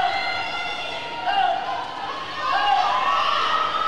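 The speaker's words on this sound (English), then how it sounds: "As we see some of the girls cheering on their teammates from behind." Girls cheering on teammates at a high school varsity swim meet, shrill overlapping shouts and whoops rising and falling in an echoing indoor pool over a steady crowd murmur.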